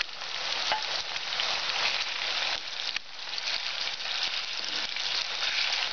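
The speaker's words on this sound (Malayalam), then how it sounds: "ഇനി നമുക്ക് ഡീപ് ഫ്രൈ ചെയ്യാം." Kerala-style chicken 65 deep frying in hot oil gives a loud, steady, dense sizzle and crackle that runs unbroken throughout, with no talking.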